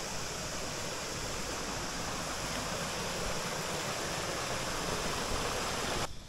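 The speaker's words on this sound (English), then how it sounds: "This little stream leads up to the spring." A small, low stream leading to a spring flows continuously without a break, a broad even hiss close by.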